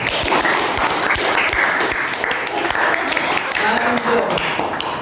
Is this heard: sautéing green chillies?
no